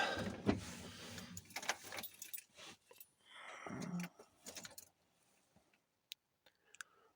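Keys jangle and click as the key turns in the ignition of an Opel Vivaro, followed by a quieter stretch with a few sharp, isolated clicks from the glow plug relay switching on.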